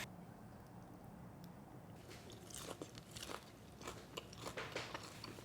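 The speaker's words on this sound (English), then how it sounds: "Crunchy and chewy mushroom" Close, quiet crunching bites into crispy fried sweet and sour mushroom, a series of irregular crackly chews starting after a brief near-silent pause.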